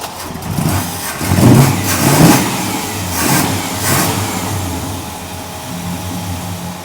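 A 1957 Chevy engine with dual carburetors cranks and catches, then revs up in a few uneven bursts before settling into a rough, loud idle nearby.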